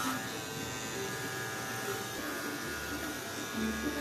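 Electric hair clipper buzzing steadily through a fade cut on a schoolboy at a Chennai barbershop, a continuous close drone with slight swells, faint talk in the background.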